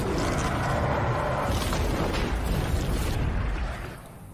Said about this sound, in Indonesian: Dia berhasil menembakkan bom fosfor ke dalam mulut si naga tepat di saat naga ingin menyemburkan api.